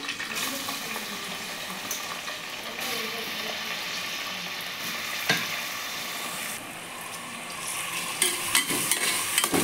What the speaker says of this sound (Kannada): ಚೆನ್ನಾಗಿ ಫ್ರೈ ಮಾಡ್ಕೋತೀನಿ ಈರುಳ್ಳಿನ.